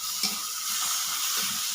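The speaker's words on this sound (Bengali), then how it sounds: "দেখো পেঁয়াজটা ভাজা হয়ে গেছে" Onions sizzle steadily in a pan on a clay cooking stove, a close, continuous bright hiss with faint stirring clinks underneath.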